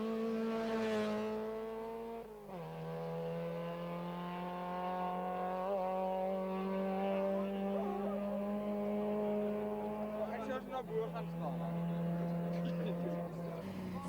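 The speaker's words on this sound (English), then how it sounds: "One by one, in 2-minute intervals, the cars enter the stage." Old-school South African rally cars blast through a special stage, their engines droning and shifting pitch as they rev hard between gears, heard steadily under someone narrating.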